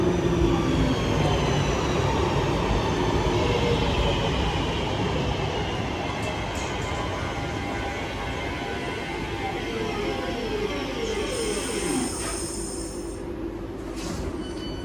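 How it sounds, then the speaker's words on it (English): A Class 323 electric train pulls into St Helens Junction station heading for Crewe, a loud continuous rumble of wheels on rail that eases slightly, with a faint squeal toward the end. "Next train to arrive is a Class 323 heading to Crewe."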